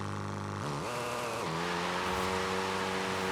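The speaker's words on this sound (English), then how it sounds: "Nice little burnout to get things going." A car in the Forza Horizon racing game does a burnout: the engine revs in a loud, steady drone with rising pitch shifts and a continuous tire-screech wash, with no talking.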